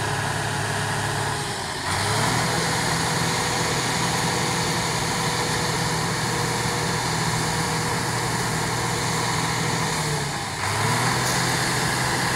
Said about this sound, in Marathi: मागं पुढं करायला चालू आहे. म्हणजे ह्याच जागेवर आपल्याला रिवर्स आणून गाडी फुल करून टाकायची आहे.